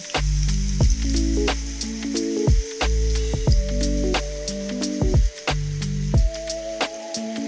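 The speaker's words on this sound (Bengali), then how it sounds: "পেঁয়াজের সাথে চিকেনটাও ফ্রাই করে নেব।" Chicken pieces fry with onions over a low gas flame for methi malai chicken, giving a steady soft sizzle beneath louder melodic background music, with a few brief scraping stirs.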